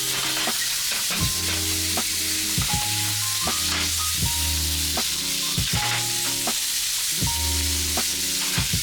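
Steak seared in a well-heated frying pan for Chaliapin steak with caramelized onion sizzles loudly and steadily up close, with repeated knocks and scrapes of utensils against the pan.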